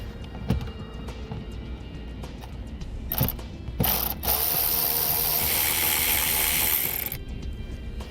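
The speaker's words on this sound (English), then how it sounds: "Now to get these out, you'll need a T15 torque bit." A ratcheting tool clicks and whirs while a T15 Torx bit backs out panel screws beneath a 2015 Chevrolet steering wheel, with a few sharp taps and a longer, hissing burst of driver noise near the end.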